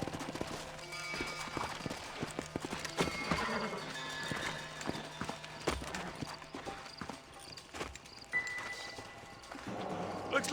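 In Red Dead Redemption, horses clop to a halt with hoof thuds, snorts and a whinny, mixed with game ambience and a voice speaking; hoofbeats irregular, moderately close, over a quiet background.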